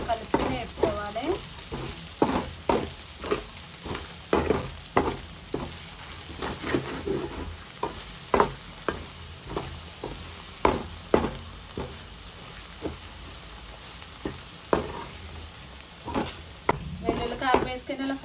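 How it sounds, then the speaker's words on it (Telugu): Okra fries with garlic and chilli powder in a pan under a constant close sizzle, with a steady run of sharp scraping clicks as it is stirred again and again. "వెల్లుల్లి కారం వేసుకుని ఇలా ఫ్రై చేసుకోవాలి ఫ్రెండ్స్."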